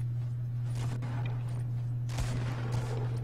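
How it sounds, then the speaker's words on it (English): Gunfire in the Fortnite battle royale game: a few sharp shots cracking out at irregular intervals over a steady background hum, with a brief cluster of bursts in the second half. "They're shooting at you."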